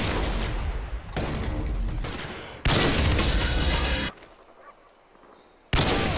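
Sniper rifle fire and battle noise in the video game Modern Warfare 2, heard as loud, dense stretches of blasting broadband noise broken by abrupt cuts and a brief quieter gap.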